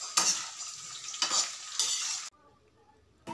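Cauliflower fries in hot oil while being stirred with a utensil, giving bright sizzling bursts with scraping strokes at a steady rhythm, close and fairly loud, before dropping suddenly to near silence.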